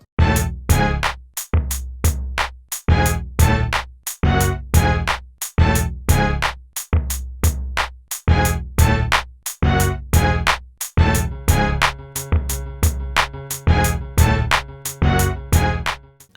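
Complete song remake built in the Mario Paint composer video game, with bass, strings and guitar samples stacked into a dense, driving loop of rapid rhythmic hits, loud and continuous with no voices.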